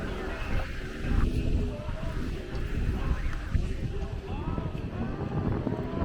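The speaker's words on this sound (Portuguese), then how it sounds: "Talvez esse vento já seja justamente para limpar, né, o céu." Wind gusting along the Leblon to Ipanema boardwalk in Rio de Janeiro at dawn, a constant low buffeting roar over the microphone with rumbling surges, fairly close and steady throughout.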